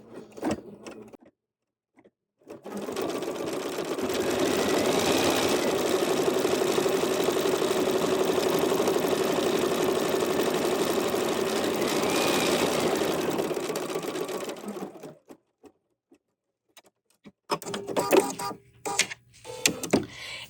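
An embroidery machine stitches a cream thread tack-down line on a paisley fanny bag strap, a steady, even mechanical whir running for about twelve seconds, with brief clicks and handling noises before and after.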